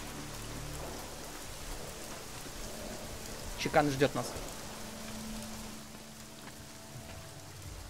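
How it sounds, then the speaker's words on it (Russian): Heavy rain pours steadily in the Prague streets of the video game Deus Ex: Mankind Divided, a soft continuous hiss with a brief louder burst midway, while someone speaks a few words over it. "Прощаемся и с этим ливнем."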